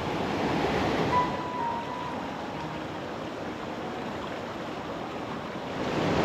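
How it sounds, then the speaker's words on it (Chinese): Cold glacier-fed river in the Qilian Mountains, flowing with a steady broadband rush of water; continuous and fairly close, with wind adding to the wash and no voices. "泉水叮咚，小河流水"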